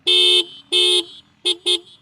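A TVS Apache RTR 310 motorcycle's dual horn honks four times, two longer blasts then two short quick ones, loud and close with a bright buzzy tone.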